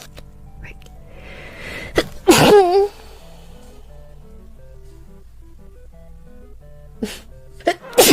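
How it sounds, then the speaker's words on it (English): A young woman lets out one loud, sharp sneeze partway through, close up. Brief quiet talk comes before it, and short vocal bursts follow near the end. "Oh, I'm gonna sneeze."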